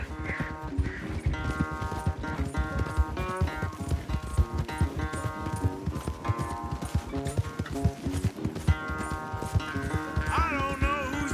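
Horse hooves pound in a steady, fast gallop during a race in Red Dead Redemption 2, loud and continuous with music-like tones layered over it.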